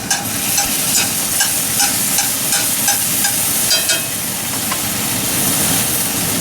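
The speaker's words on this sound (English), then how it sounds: "garlic sauteing away." Fresh garlic sautéing in a hot skillet, a loud, continuous close sizzle and crackle with faint stirring clicks and no talk over it.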